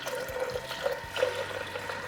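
Water pours into a pot being filled toward the one-litre mark, a close, continuous splashing trickle with gurgling swells as the level rises.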